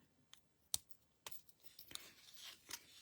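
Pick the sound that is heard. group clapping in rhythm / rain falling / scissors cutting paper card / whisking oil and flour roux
scissors cutting paper card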